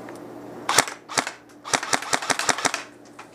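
A KWA SR10 2GX airsoft rifle fires a single sharp shot, then a few spaced shots, then a rapid burst of snapping cracks, close and dry with no talking.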